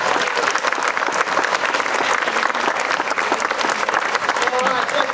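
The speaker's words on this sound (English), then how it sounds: "So a big round of applause for Mikey." A crowd at a junior football club presentation day gives a loud, steady round of applause, dense clapping filling the whole stretch with faint voices underneath.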